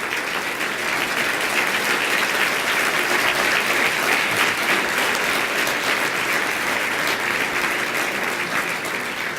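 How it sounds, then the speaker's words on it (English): An audience at a Human Rights Campaign dinner in Philadelphia applauds after a keynote speech, a dense, steady sustained clapping that fills the room at full volume from start to finish. "Now, I appreciate your applause"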